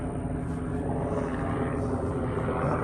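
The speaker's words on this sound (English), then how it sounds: "Blackhawks today. Flying overhead all morning." Military Black Hawk helicopters pass overhead near a large helicopter training base, giving a steady, broad rotor and engine rumble that stays fairly faint and continuous, with no talking.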